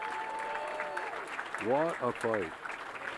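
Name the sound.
applause for two boxers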